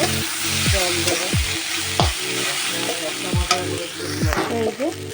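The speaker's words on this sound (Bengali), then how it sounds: "ভালো করে এটা কষে নেব মশলাটা" Turmeric and chili powder masala is stirred and fried in a pan for a bhola fish curry, with repeated scraping strokes of a spatula over a continuous, close oil sizzle.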